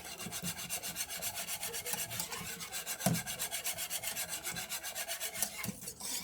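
A spoon stirs a pot of chocolate pie filling on a stovetop, giving a steady, rhythmic scraping and rubbing against the pot, close and fairly loud, with one brief clunk partway through and no talking.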